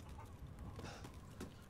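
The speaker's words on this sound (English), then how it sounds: "I hear chickens." Chickens clucking in the Resident Evil Village video game, faint and distant short clucks over a low ambient hum.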